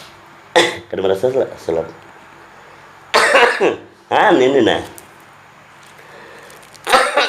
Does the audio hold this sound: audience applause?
no